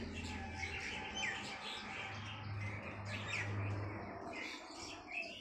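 Bulbuls and mynahs calling around a backyard bird feeder, scattered chirps, squawks and short whistled notes at moderate distance, overlapping irregularly over a soft outdoor background.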